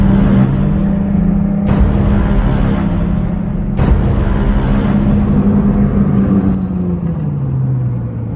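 A turbocharged car pulls hard in traffic with a steady, loud engine drone that rises and falls in pitch, and sharp bursts of boost noise break through near the start and middle.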